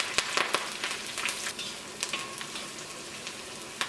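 Shallots, ginger, green chilli and curry leaves sizzle in hot coconut oil, a steady close crackle with sharp pops and stirring scrapes, no voices.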